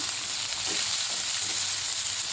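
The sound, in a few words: chopped onion frying in a pan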